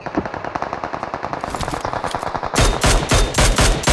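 Automatic gunfire in PUBG Mobile, rapid evenly spaced shots fired in a steady stream, growing louder and heavier partway through, close and dominant with no talking.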